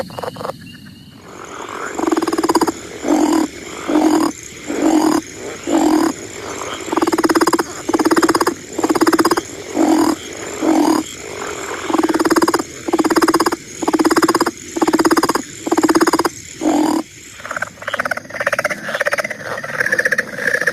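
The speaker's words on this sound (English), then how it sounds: "there's a spring peeper calling on this one." Spring peeper frogs calling in a full chorus, sharp rhythmic peeps repeating about once a second over a dense background of other frog calls, close and loud, with no talking.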